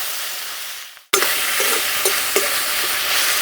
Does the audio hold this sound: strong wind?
no